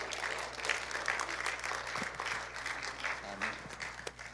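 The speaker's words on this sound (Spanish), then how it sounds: "Dele un aplauso para que se anime." A church congregation claps together in steady, continuous applause that fills the whole stretch, with voices mixed into the crowd noise.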